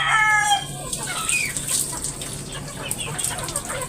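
Chickens and roosters cluck steadily in a coop where young stags are raised, with a brief crow-like call near the start and constant layered farmyard noise throughout.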